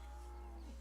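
A cow in the farming game Farming Simulator 17 gives a single short, steady low moo, heard alone and fairly quiet.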